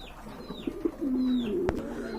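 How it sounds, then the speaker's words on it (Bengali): Pigeons kept for sale coo once in a low, drawn-out call, close by against a quiet background with a few faint rustles and a short knock near the end, and no one talking. "এখানে কিন্তু আরেক জোড়া কবুতর আছে"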